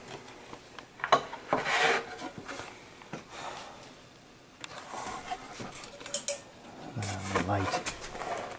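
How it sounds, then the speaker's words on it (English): A chisel pares an end-grain wall of wood for a bookcase: quiet, intermittent scraping and rasping strokes close up, with small knocks between them. "I'm pushing really hard with my thumb to hold that chisel firmly against that end grain wall."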